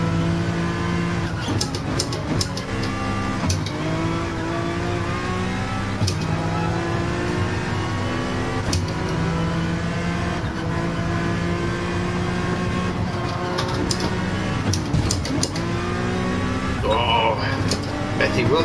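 Honda NSX Group 3 race car engine in Gran Turismo 7 on track, droning steadily and loud with rising and falling gear-change sweeps and a couple of sharp shifts, under intermittent talk.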